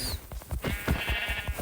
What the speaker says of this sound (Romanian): Uite, o oaie, poate avem nevoie de lână ei.